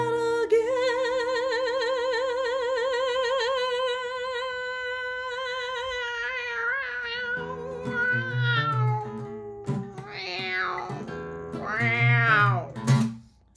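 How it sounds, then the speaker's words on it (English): Drawn-out, wavering cat yowls rise and fall, growing into harsher, louder wails toward the end before cutting off. "What, last night a cat fight?"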